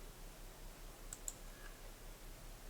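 Two quick, faint mouse clicks land close together while moving through a game's options menu, set against a low steady background hum with no talk.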